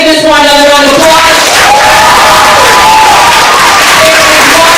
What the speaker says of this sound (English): Let's give Ms. Moore another round of applause